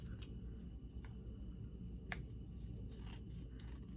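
Scissors snipping through card stock during card-making, a few quiet, crisp cuts spaced apart over a low steady background hum.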